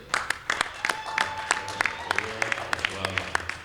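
Scattered applause at an MTN and South Sudan Football Association partnership signing ceremony: sparse, separate claps rising and falling over a few seconds while a voice talks across them.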